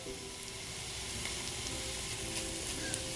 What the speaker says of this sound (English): I just want to coat the bottom with some butter, and then I'm going to add some apple pieces